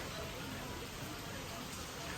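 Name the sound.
rain falling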